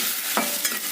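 Chopped tomatoes sauté and sizzle in a hot pan as a spoon stirs them, giving a steady frying hiss with two short scraping strokes.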